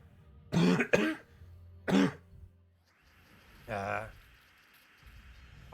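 A person coughs and clears the throat in several close, harsh bursts, two quick ones then a third after a pause, and a final rougher one, with quiet background between.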